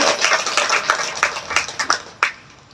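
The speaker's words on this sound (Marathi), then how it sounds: "तर त्यांच्यासाठी एकदा जोरदार टाळ्या झाल्या पाहिजे" Audience clapping at a Buddha Purnima program, a short burst of scattered applause that thins out and ends with a few last claps.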